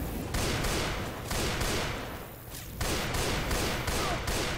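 Dense, continuous gunfire from several weapons in Left 4 Dead 2 co-op play, rapid overlapping shots that briefly thin out near the middle before resuming at full intensity, loud and close throughout.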